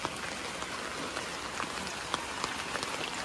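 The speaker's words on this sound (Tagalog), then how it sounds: "Ulan pa rin, guys." Steady rain falls outdoors as a dense, even hiss, with occasional sharper drops tapping nearby surfaces and no voices.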